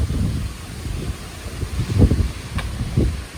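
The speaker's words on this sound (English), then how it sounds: "it's getting breezy" Gusty wind rushing through trees along a wooded rail trail on an escarpment, a low steady roar that swells in surges, with no talking.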